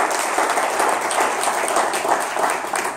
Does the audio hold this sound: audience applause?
yes